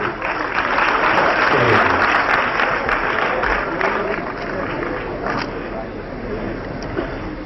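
A large crowd at a lawyers' conference applauds, a loud, dense roar of clapping that holds steady, then eases slightly toward the end, with a few voices mixed in.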